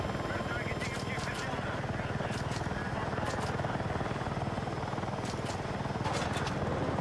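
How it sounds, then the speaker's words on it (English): An enemy helicopter in a video game flies nearby, its steady rotor chop a continuous low thumping drone with intermittent sharp game sounds, while players talk over it. "I'm assuming that's their heli"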